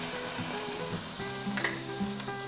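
Pork tenderloin browning in hot oil with rosemary, a close, steady sizzle and crackle with light scraping and stirring throughout, no voices.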